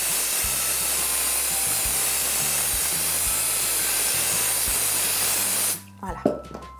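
A spray adhesive can hisses continuously, loud and close, as glue is sprayed onto fabric for a vintage table, running for several seconds before cutting off into a few quiet handling noises.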